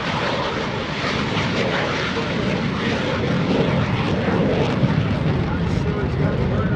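An F-16CJ Fighting Falcon fighter jet takes off at an airshow with a loud, sustained roar of engine noise filling the whole stretch, its intensity building slightly, while a commentator's voice talks over it.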